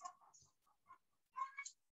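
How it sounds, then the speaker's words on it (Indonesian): A neighbour's rooster calls nearby in short broken clucks and a brief crowing burst, faint against a quiet indoor background. "kedengaran ada suara ayam kokok tuh,"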